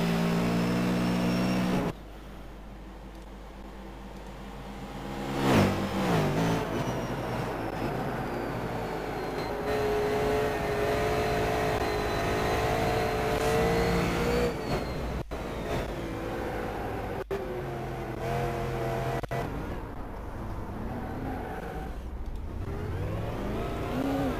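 V8 Supercars race cars at Phillip Island roaring past and accelerating, engine notes rising and falling as cars close in and pull away, with a sudden loud pass and long stretches of sustained engine drone.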